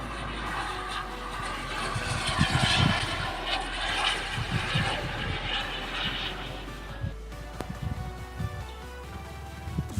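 A radio-controlled model F9F Cougar jet roars overhead, a steady loud whine that swells and fades as it passes.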